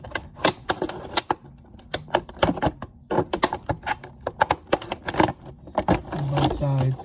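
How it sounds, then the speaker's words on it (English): Tin snips cutting into a plastic water bottle to make a face shield, a series of sharp, crisp snapping cuts in irregular bursts up close, with someone talking over them. "I'm going to use some tin snips here to get into this."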